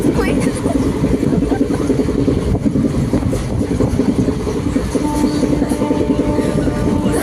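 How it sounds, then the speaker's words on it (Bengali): A moving train rattles and rumbles steadily on its tracks, loud and close, with a constant low roar throughout and a faint voice underneath. "গাইস ট্রেনটা মানে এমন নড়তেছে মনে হয় ভূমিকম্প হচ্ছে"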